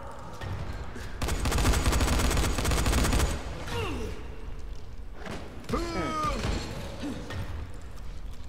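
Shotgun gunfire in the zombie game Dying Light comes as a dense burst of rapid shots, followed by scattered thuds and mechanical clatter, all fairly quiet.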